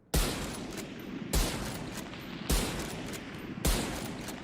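Four heavy shots ring out from a scoped rifle in the shooter game Valorant, evenly spaced about a second apart, each a sharp loud crack followed by a long decaying tail, with no talking.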